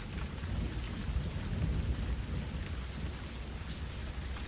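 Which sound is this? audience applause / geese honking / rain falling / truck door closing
rain falling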